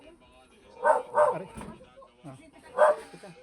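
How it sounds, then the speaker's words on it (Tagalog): A dog barks loudly nearby in a Filipino home, three or four sharp barks in quick succession followed by another after a pause, with people speaking in between. "maingay yung aso eh"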